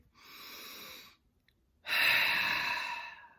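Two deep breaths, a slow airy inhale and then a longer, louder exhale after a short pause, close and alone with no talking.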